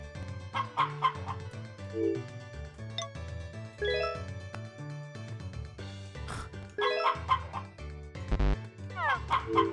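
Chickens clucking in the farming video game Harvest Moon: Back to Nature, short, bright, repeated clucks over a busy looping game music track, with no talk.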